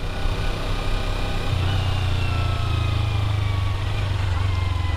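A motorcycle engine hums at low speed while a new rider practices, a steady mid-pitched drone that thickens slightly after the first second and holds, with no talk over it.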